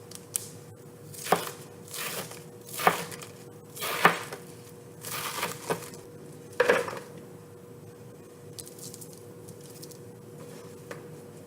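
A knife chops celery stalks on a cutting board in a home kitchen, with about seven loud, distinct chops at uneven intervals followed by softer scraping and tapping.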